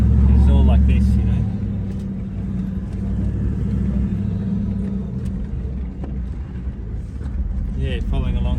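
A four-wheel drive travels along a desert sand hill track on the Canning Stock Route, its engine a steady low rumble close by for the whole stretch, with some faint voices beneath the drone.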